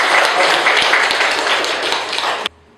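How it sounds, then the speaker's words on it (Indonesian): Classroom applause from students during a teaching practice lesson, a dense, steady burst of many hands clapping that cuts off abruptly near the end, leaving near silence. "Tepuk tangan untuk kami semua yang berjawab"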